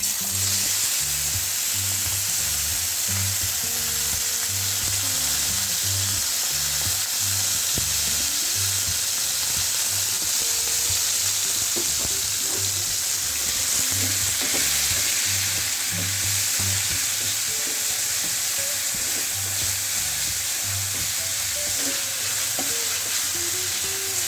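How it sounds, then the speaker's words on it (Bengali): Marinated chicken pieces frying in hot oil, a loud sustained crackling sizzle with scattered pops and occasional stirring clatter throughout. "তেলটা গরম হয়েছে, এখন আমি চিকেনগুলো দিয়ে দিব"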